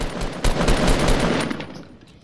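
Rapid automatic gunfire in a Fortnite squad match, a dense burst of loud overlapping shots rattling for about two seconds before tapering off, with no speech over it.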